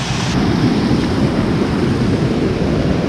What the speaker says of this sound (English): where this water's flowing down the creek here